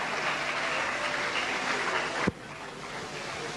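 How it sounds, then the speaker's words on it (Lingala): Audience applause greets Koffi Olomide's Quartier Latin band as it is introduced at a studio event, a dense, steady wash of clapping that breaks off with a sudden thump and continues more thinly afterward. "Merci d'applaudir encore plus fort."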